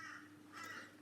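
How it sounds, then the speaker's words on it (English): Crows cawing in the background outdoors on a humid day, two faint rasping calls over a low steady hum. "Now you might hear some birds in the background,"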